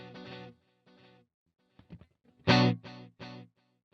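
Electric guitar played through a Boss GT-100 with the direct mix at zero, so only the effected echoes sound: short distorted notes followed by fainter repeats, a louder chord near the end with its own trailing echoes.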